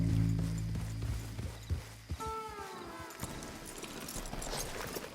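Horse hooves clip-clopping on a trail in Red Dead Redemption 2, a steady rhythmic patter of footfalls close by, with a brief call from a rider and game ambience beneath.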